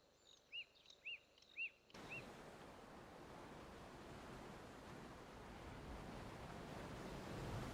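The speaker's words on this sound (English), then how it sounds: "enjoy the sounds of the ocean" Ocean waves wash onto the shore at Stony Point, a steady broad roar of surf that builds slightly louder over several seconds, preceded by a brief stretch of quieter background with a few short calls.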